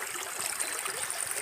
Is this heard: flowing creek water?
yes